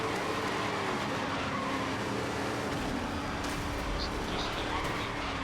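Race car in the video game Grid (2019) driving through corners, a steady engine roar with tyre noise at a constant level, with a voice speaking over it.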